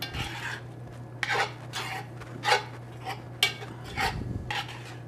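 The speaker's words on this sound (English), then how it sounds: "And we'll mix that up." Fresh green onions being stirred into a boudin rice mixture in a pot, giving soft scraping and clinking spoon strokes in irregular bursts over a steady low hum, with no voices.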